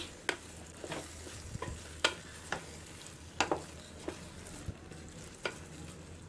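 Salted ash gourd curry being stirred in a pan, with distinct spoon scrapes every second or so over a low, steady sizzle, close and alone with no voices.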